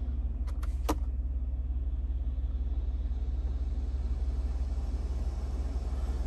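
Ventilated seat fans in a 2023 Chevrolet Silverado ZR2 pickup cabin give a steady, even low whir and hum that runs the whole time, with a few brief clicks near the start.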